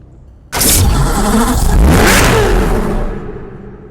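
Mercedes-AMG Black Series engine in a Need for Speed racing game, bursting into a loud, close rev that swells and sweeps up and down in pitch for about three seconds before easing off, with no talk.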